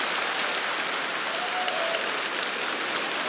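A studio audience at a comedy show applauds, a dense, even wash of clapping that holds steady and loud for the whole stretch.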